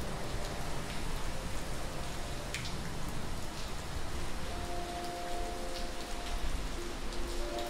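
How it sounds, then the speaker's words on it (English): Rain falls steadily and heavily, a dense, continuous patter with scattered louder drops close by and faint tonal hums underneath, with no voices. "Still, this rain can't persist forever"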